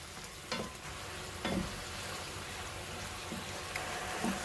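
A seasoned mixture with seasoning powder, sweet soy sauce and oyster sauce is stir-fried in a pan for fried rice, giving a soft continuous sizzle with occasional scraping strokes of the spatula.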